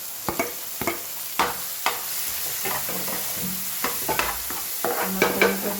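Cabbage and onion frying in oil for a homemade pizza stuffing, a continuous close sizzle broken by repeated sharp clacks and scrapes of a spoon stirring against the pan, with no voices.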